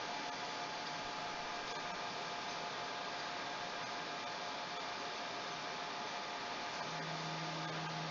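A BGA rework station runs a desolder cycle on a large circuit board, giving a steady, even blower-like hiss with a faint hum joining near the end, alone with no talking.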